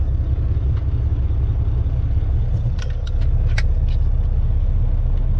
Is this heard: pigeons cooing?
no